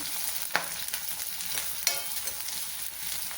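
Onion pieces frying with mutton in a pan, a constant close sizzle broken by two sharper scrapes of the stirring spoon and lighter stirring sounds between them; no talk.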